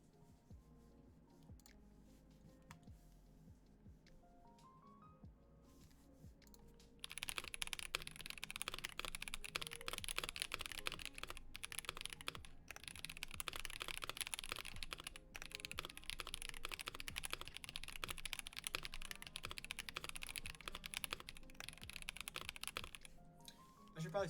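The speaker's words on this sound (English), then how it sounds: "now I'm gonna do a quick typing test" Rapid clacking keystrokes on an Ikki68 Aurora mechanical keyboard during a typing test, faint at first, then dense and louder for most of the stretch, with brief breaks and some quiet background sound.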